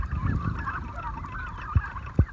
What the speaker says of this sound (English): Crazy turkeys, pretty friendly too.